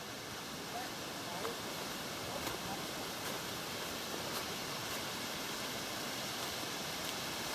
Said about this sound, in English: and the waterfall. And it's running.